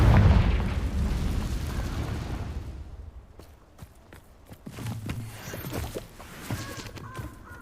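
Confringo fire-spell blasts from a Harry Potter video game: a heavy booming rumble at the start trails off, then a string of sharp cracking bursts and crackles follows, loud and close with no talking.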